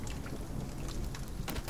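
Rain falling in the video game The Forest, a dense, steady hiss of drops with scattered pattering, close and continuous over a low rumble.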